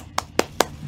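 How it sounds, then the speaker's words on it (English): Three sharp hand claps, evenly spaced about a fifth of a second apart, ring out close and loud over a low background hum. "Clap it up for him."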